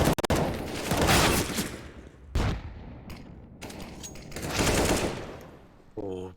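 Rapid bursts of automatic gunfire and explosive shots fill a round of CS:GO on the Overpass map, loud dense volleys fading between clusters, with faint voices underneath.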